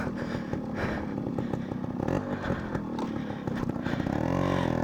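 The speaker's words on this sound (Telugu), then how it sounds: "మార్నింగ్ కదా, సో అందుకే స్టార్ట్ కాలే ఈ బైక్." Loud, close Yamaha RX100 motorcycle engine sputtering and clattering irregularly on a morning cold start, catching briefly without settling into a steady idle.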